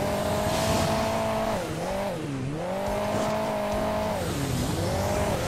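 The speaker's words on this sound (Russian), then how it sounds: "он, смотрите, ребята, он с нитро едет" A car boosting on nitro in Hill Climb Racing 2 screams at high revs, its engine tone sweeping up and down several times. Loud and close throughout, with no voices.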